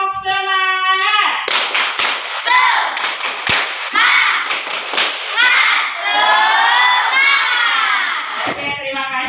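Schoolchildren repeat a patterned spirit clap in class. Brisk clusters of crisp group claps are mixed with energetic shouted chanting from the whole room, ending in a teacher's voice.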